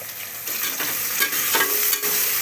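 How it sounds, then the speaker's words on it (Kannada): Mint and coriander leaves fry in a loud, close, continuous sizzle for biryani, with quick scraping stirs cutting through every half second or so. "ಪುದೀನ ಕೊತ್ತಂಬರಿ ಹಾಕ್ಕೊಳ್ಳಿ. ಹಾಕ್ಕೊಂಡು ಒಂದು 2ರಿಂದ 3 ನಿಮಿಷ ಚೆನ್ನಾಗಿ ಫ್ರೈ ಮಾಡ್ಕೊಳ್ಳಿ"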